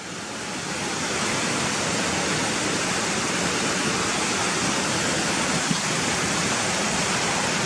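Water from a stream flowing across a village path beside a wall, a steady, dense rushing and splashing that holds evenly from start to finish, with a dog wading somewhere within it.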